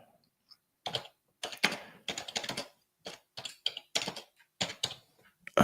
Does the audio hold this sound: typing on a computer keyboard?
yes